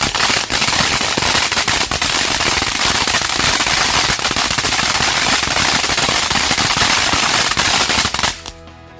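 Firecrackers and fireworks set off at night, a dense, loud, continuous barrage of rapid cracking pops that cuts off abruptly near the end.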